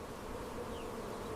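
Honey bees buzz in a dense, continuous drone, steady and close with no other sounds.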